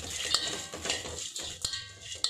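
Gram dal, pepper and dried beetroot and carrot dry-roasting in a pan, stirred with a utensil, giving soft rustling scrapes and a few sharp clinks against the pan, close and quiet, with no talking.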